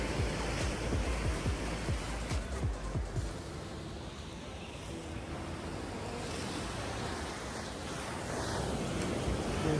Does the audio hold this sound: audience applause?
no